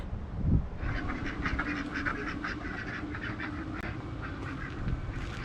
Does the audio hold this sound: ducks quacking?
yes